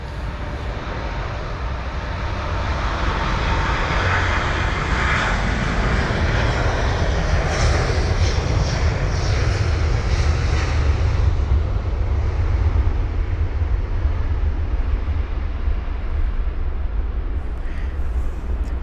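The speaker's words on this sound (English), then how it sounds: "this is flight number DL1874, the Delta Airlines A330-900 heading to Los Angeles LAX" A Delta Air Lines Airbus A330-900 departing Heathrow for Los Angeles builds a loud, continuous jet roar with deep rumble, swelling in the middle and holding steady, no voices over it.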